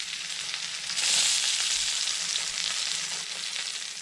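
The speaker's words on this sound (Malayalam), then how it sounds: "രണ്ടാമത്തെ മീനും ഞാൻ ദോശക്കല്ലിലോട്ട് വെച്ച് കൊടുക്കാൻ പോകും" Karimeen fish wrapped in banana leaf sizzling on a dosa griddle with a drizzle of coconut oil, a steady close frying hiss that swells briefly, heard alone without talk.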